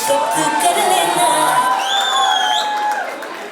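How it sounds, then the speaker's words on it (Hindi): A loud crowd at a sangeet cheers and whoops in a sustained burst, with high shouts and whistles rising over a dense wall of voices. "जोरदार तालियां"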